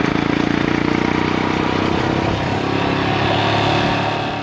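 A motorcycle engine drones steadily while riding a winding mountain road in Ladakh, a loud close rumble with faint pulsing and a mild rise in revs toward the end.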